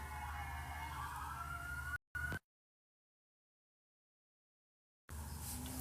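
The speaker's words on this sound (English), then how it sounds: "Sirens going off and everything." A wailing siren sweeps up and down over traffic noise, cuts off abruptly into silence, then a brief burst of noise returns.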